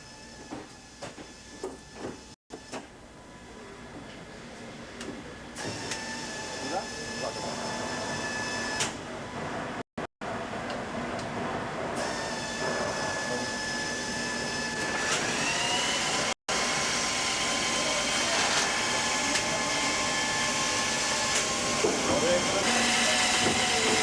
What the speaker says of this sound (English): The tightness welding is then carried out by fully automatic resistance seam welding.